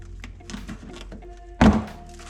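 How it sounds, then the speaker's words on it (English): A plastic trim panel between the bumper and fender of a 2015-2020 Ford F150 pops loose with a single sharp, close thunk, following quieter handling noises. "Now we're going to take this panel off by reaching around"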